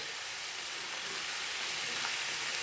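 Shallots sizzling steadily as they hit a hot pan, a soft, even frying hiss with no talk, ending in a small clink.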